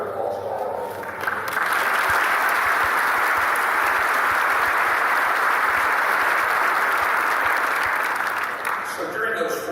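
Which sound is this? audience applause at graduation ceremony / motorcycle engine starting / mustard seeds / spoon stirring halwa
audience applause at graduation ceremony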